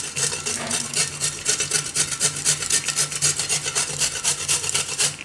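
A carrot is rubbed hard against a kitchen grater in steady, rapid back-and-forth strokes, loud, close and rasping, with no voices.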